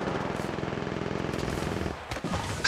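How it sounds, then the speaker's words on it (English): Sustained rapid automatic gunfire in Apex Legends Mobile, a loud close stream of rattling shots that breaks off briefly before a final sharp burst. "Shots fired at me."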